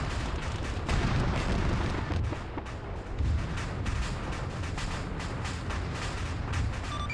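Gunfire and artillery in the Arma 3 video game, staged as a Germany versus Poland armored battle, form a dense, continuous barrage of sharp shots and heavy booms rolling on without pause at a moderate distance.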